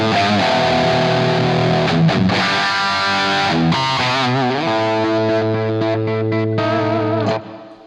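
Heavily distorted electric guitar through a Marshall JCM 800 2204 amp with the master volume on 10, loud sustained chords and riffs ringing throughout before cutting off near the end.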